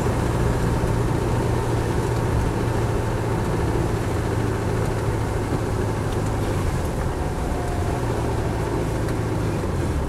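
Steady diesel drone of a Land Rover Defender 90 CSW with the 2.5 TD engine on the move, heard from inside the cab as a constant loud rumble mixed with road noise, with no talking.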